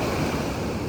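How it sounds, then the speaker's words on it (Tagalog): Large ocean waves crash and surge in rough, stormy weather, a loud continuous roar of surf with wind noise buffeting the microphone and no voices. "Talagang nagwawala yung mga alon ngayon"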